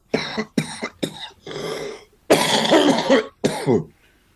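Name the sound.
a man coughing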